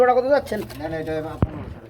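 Female pigeons at a pigeon sale coo softly in the background, mostly masked by someone talking close by.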